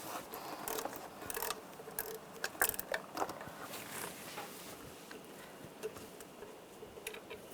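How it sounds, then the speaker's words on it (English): A ratchet with a 12mm socket loosens a bolt on a 1996–2002 Toyota 4Runner engine, giving faint, quick clicking bursts in uneven runs against quiet shop background. "Now take this bolt off. Use a 12mm socket."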